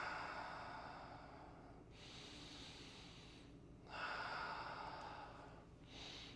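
Slow, deep breaths during a seated spinal twist stretch: two long inhale-exhale cycles heard close and soft, each breath an airy rush rising and fading, no talking.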